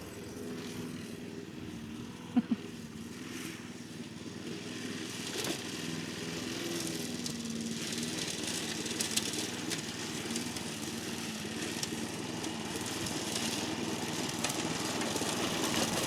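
A lawn mower drones steadily as it cuts grass outdoors, a continuous engine hum that builds slightly over time. It sounds moderately distant, and there is no talking.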